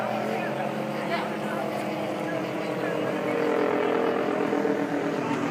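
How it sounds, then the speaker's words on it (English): Police helicopter flying overhead during street unrest in Ferguson, Missouri: a steady droning rotor and engine rumble at moderate distance, swelling slightly louder toward the end. "There's the police helicopter flying overhead."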